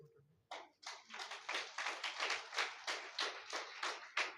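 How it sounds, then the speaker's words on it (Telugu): A church congregation claps hands together in a steady, fairly quick rhythm, loud and close, with a few faint voices underneath. "చేతులు పైకెత్తి చప్పట్లు కొట్టండి"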